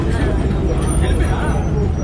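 Interior of a moving bus carrying passengers, with a steady low engine rumble and road noise under continuous chatter from riders throughout.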